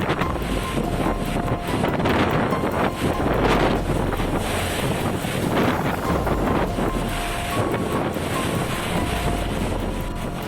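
Strong, gusty wind during an extreme storm with heavy rain in Semarang, Indonesia, roars continuously, buffeting the microphone with a dense, turbulent rush that never lets up.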